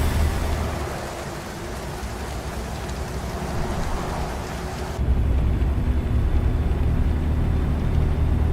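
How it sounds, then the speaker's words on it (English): Steady rain hisses throughout a wet-weather truck drive in Arkansas toward Hot Springs in the game American Truck Simulator, growing louder and heavier after a few seconds, with a low rumble beneath; no clear thunder clap stands out. "Definitely a rainy day here."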